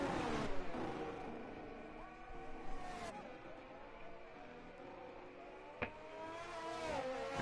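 Formula 1 cars in a racing video game at the Mexico circuit scream into turn one, engines whining and shifting pitch as they brake and accelerate, steady and close under a faint commentator's voice.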